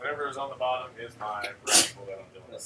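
A short, sharp sneeze bursts out midway through steady talking, loud and close.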